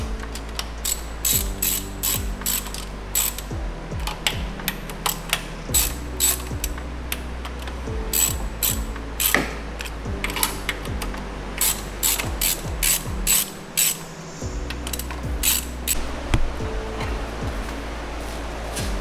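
A hand ratchet clicks rapidly in repeated bursts while snugging bolts during a flex fuel install on an Audi C7 4.0T, close and loud with brief pauses between runs.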